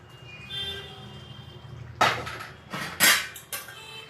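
Sausages dropped and stirred into a simmering Anglo-Indian chicken sausage curry in a metal pot, a few sharp clanks and scrapes of utensil on pot over a soft bubbling simmer, close and without talk.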